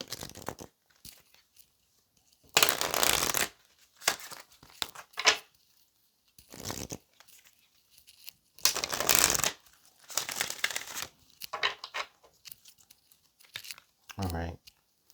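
Tarot cards are shuffled and handled in irregular bursts of papery riffling and slapping, separated by quiet gaps, with a brief low sound near the end.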